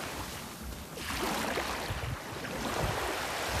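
Sea waves wash onto the beach at Karasu in calm, clear weather, a steady surf hiss with swells rising and falling, mixed with wind buffeting the microphone and no voices.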